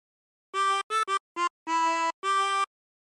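A harmonica plays a short melodic phrase from Yankee Doodle, six separate reedy notes in a steady rhythm with brief gaps between them. The notes are close and clear, with no talking.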